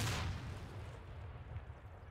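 Satchel charge detonating in the ArmA 2 military game: one loud, close blast at the start that rolls into a long, low rumbling tail lasting about two seconds.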